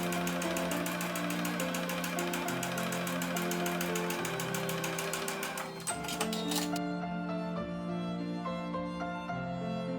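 A sewing machine stitches along the edge of a small fabric bookmark made from scraps, a steady rapid rattle running close for several seconds before stopping, set against soft background music.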